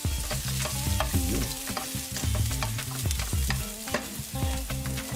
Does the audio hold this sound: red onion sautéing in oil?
yes